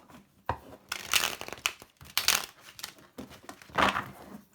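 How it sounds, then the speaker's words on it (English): Tarot cards being shuffled by hand, a run of brisk riffling and slapping bursts separated by short pauses, close and clear with no talk. "One more shuffle."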